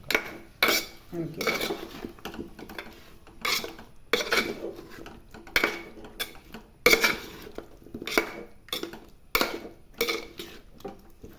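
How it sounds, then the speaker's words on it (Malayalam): Onam sadya curry ingredients with green chillies stirred in a pot: repeated metallic scrapes and clinks of a spoon against the vessel, close and rhythmic, alone without talk. "അപ്പോൾ എല്ലാം കൂടി നന്നായിട്ടൊന്ന് ഇളക്കി"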